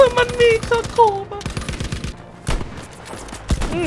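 Gunfire in the shooter Battlefield V: rapid shots and bursts crackle under someone talking, mixed with game sounds and tonal effects.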